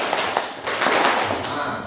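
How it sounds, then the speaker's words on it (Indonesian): A class of junior high school students in Cisarua, Indonesia, claps together in a rehearsed pattern, a quick run of sharp, fairly close hand claps blending into a noisy classroom wash with voices mixed in. "Kalau 4 kali itu tepuknya ke kiri 2 kali, tetap ke kanan 2 kali"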